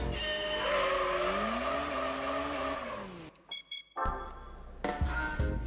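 Race car launching in Gran Turismo 3 on PS2, a loud sustained engine rev with squealing tires that slides up then cuts off, followed by short bursts and a renewed engine roar.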